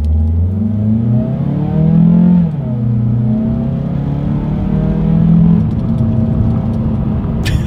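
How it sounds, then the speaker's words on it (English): A 2020 Mazda CX-3 compact SUV pulls away from a standstill, revving up through several gears with rising pitch and brief drops at each shift, loud and close. "Let's go ahead and do a quick little acceleration test in our 2020 CX-3"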